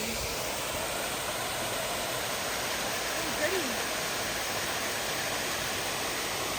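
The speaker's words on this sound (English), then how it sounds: "Now it's a waterfall over here." Waterfall beside a trail on the Pennsylvania Grand Canyon loop, a steady broadband rush of falling water heard from nearby, continuous and even, with faint voices under it.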